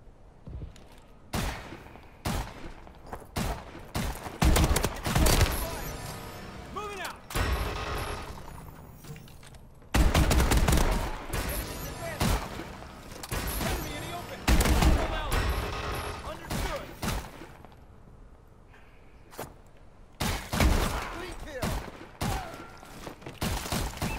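Rapid bursts of automatic gunfire and single shots crack repeatedly in a Call of Duty: Advanced Warfare infected match, with dense volleys and brief pauses throughout, and game voices faintly underneath.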